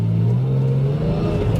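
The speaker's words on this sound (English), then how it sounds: "running through the gears first to third there" Porsche 996 with a 3.7 engine heard from inside the car, a loud, steady engine drone with rising pitch as it pulls through the gears from first to third.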